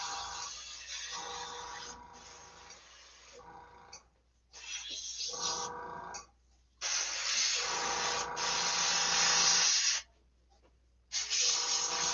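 An airbrush sprays coats of paint onto a model in repeated bursts of steady, close hiss. Each burst lasts one to three seconds and is separated by short silent pauses, with no talking.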